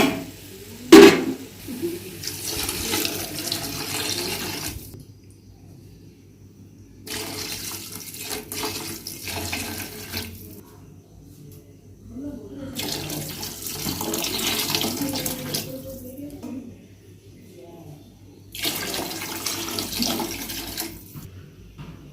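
Water poured into a cooking pot for vegetable biryani, several separate splashing pours of a few seconds each with quiet gaps between, close and moderately loud, no talking.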